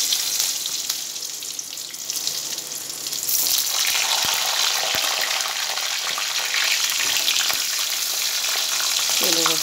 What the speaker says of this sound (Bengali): তেলের ওপরে টমেটো দিয়ে দিলাম